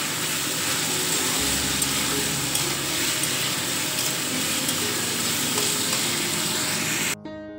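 Chickpeas sizzle steadily in a hot pan, a loud, continuous frying hiss that runs unbroken until it cuts off abruptly near the end.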